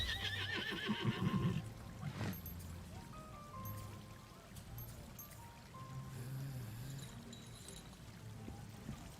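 A horse in the video game Lost Ark whinnies at the start, a short neigh over quiet ambience, followed by soft scattered game sounds and faint hooves at low level.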